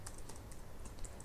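Typing code on a computer keyboard, a quick run of light key clicks at an even, close rhythm over a quiet background.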